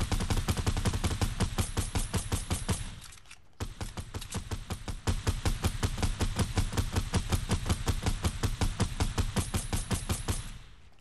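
Sustained rapid automatic gunfire in a video game, loud and continuous, with a brief pause near the middle before the burst resumes.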